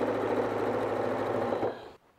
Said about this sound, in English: We'll just get a little space going here and we'll just sew along.